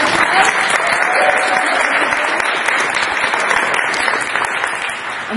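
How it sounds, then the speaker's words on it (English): A crowd at an indoor community workshop applauds steadily and loudly throughout, a dense continuous wash of clapping with no pauses. "can I get an applause for the crowd?"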